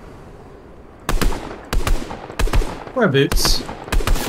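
Sniper fire in Fortnite: about six sharp, loud cracks spaced roughly every half-second, each trailing off briefly, with a short sweeping whoosh between shots and a voice speaking over them.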